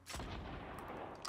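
A sniper rifle shot fired in the video game Fortnite, a single loud burst that rings out immediately, followed by a low rumbling tail and a faint crack near the end.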